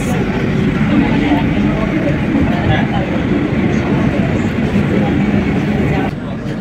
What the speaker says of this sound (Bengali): ট্রেন আমাদের শ্যামবাজার পেরিয়ে চললো।